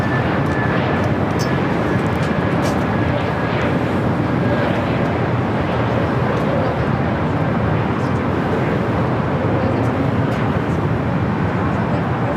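An Airbus A321neo jet approaches at LAX, a loud steady roar that fills the whole span with heavy broadband rumble and wind buffeting close to the microphone.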